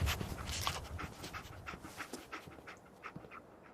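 The dog companion Dogmeat pants steadily in the Fallout 4 video game, a quick rhythmic breathy huffing that is quiet and close, with no voices.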